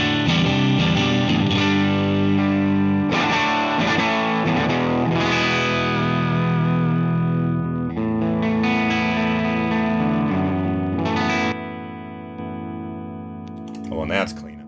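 An electric guitar plays through a Laney LA-Studio amp on a clean tone. Sustained chords and notes ring out with a full low end, fading near the end into a few quieter picked notes.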